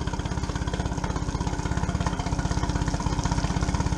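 A Mercury Pro Kicker 15 hp outboard motor idles steadily while warming up, its rapid even firing pulses running close and loud without a break and with no voices.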